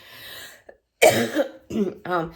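A few harsh, hacking coughs close up, coming in quick bursts with brief gaps between them.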